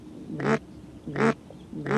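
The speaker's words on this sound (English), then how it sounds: "Well, it would be just a little quack" Three soft, short duck-call quacks spaced about a second apart, blown on a hunting call in Louisiana duck hunting, close and clear against a quiet background.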